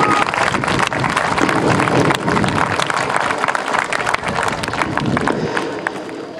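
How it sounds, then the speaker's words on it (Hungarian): Sustained audience applause at a traditional Hungarian heritage group performance, dense and loud throughout with crowd noise mixed in. "a fiatal legények megérdemelnek egy nagy tapsot"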